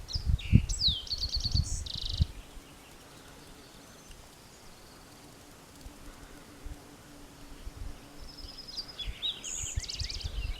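Birds sing along the Ashland Peaks trail, with bright chirps and trills in bursts at the start and again near the end over a quiet outdoor background.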